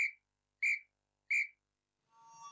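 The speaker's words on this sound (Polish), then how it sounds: "Niczym niezakłóconą ciszę przerwał krótki, urywany, trzykrotny gwizd." Three short, sharp whistle blasts sound at even intervals, clear and moderately loud against silence, followed by a softer, wavering tone at the end.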